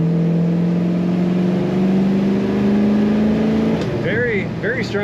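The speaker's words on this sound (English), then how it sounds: "Very strong acceleration, nice throaty rumble." A 1967 Chevrolet Chevelle SS two-door hardtop accelerates, its throaty V8 rumble climbing steadily in pitch under load from inside the car, then easing off as higher whining tones appear near the end.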